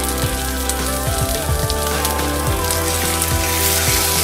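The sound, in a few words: salmon browning in vegetable oil in a hot skillet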